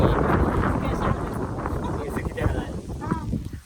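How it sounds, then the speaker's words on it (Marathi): Wind buffets a microphone outdoors on a farm in a steady, roaring wash of low noise, with people talking underneath. "वारं यायला लागले आणि आम्ही या वाऱ्यामध्ये"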